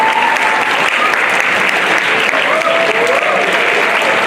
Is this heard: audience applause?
yes